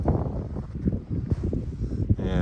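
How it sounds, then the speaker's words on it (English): Strong wind blowing over the snowy tundra, roaring and buffeting the microphone in gusts that rise and fall, loud and close throughout. "That wind has picked up."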